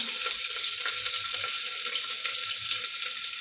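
Onions frying in a pan of hot oil with dried red chillies and curry leaves, a steady close hissing sizzle that fills the short moment without talking.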